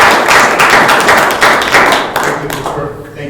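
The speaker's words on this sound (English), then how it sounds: "So we can have a round of applause for him." Applause at a Las Animas County Commissioners meeting, a steady round of clapping from the room that holds for about three seconds and then thins out near the end.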